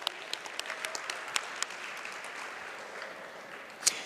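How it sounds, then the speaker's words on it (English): Applause at a university academic and athletics awards banquet, fairly faint and thinning out: scattered distinct claps ring out over a soft wash of clapping that fades, with one last sharp clap near the end. "let's give them a hearty round of well-deserved applause one more time"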